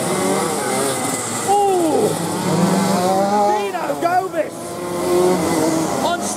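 125cc two-stroke racing bikes pass by at a heat, their high buzzing engines rising and falling in pitch as they sweep past, under continuous loud commentary.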